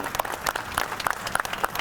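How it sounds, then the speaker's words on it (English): A crowd at an Assyrian flag raising ceremony claps steadily, the applause dense and sustained with individual sharp claps standing out throughout. "So I'd like you to give everybody here a round of applause for giving us that opportunity."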